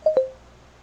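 A mobile phone sounds off with two quick, bright electronic beeps close together, the second a touch lower and longer and trailing briefly into quiet room hush, with no voices.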